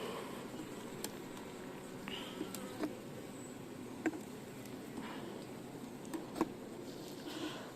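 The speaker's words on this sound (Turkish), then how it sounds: "Bu arı kestane arısı." Chestnut honeybees buzz softly and continuously around a hive frame, with small clicks and taps scattered throughout, fairly quiet and close.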